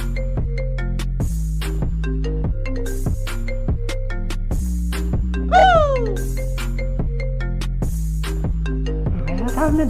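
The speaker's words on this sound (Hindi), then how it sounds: "मिर्ज़ा साहब ने दोबारा कॉल काहे की है?" A phone rings with an incoming call in a domestic drama scene, its repeating electronic ringtone pulsing steadily and fairly loud throughout, with a brief sweeping chime partway through and no talking.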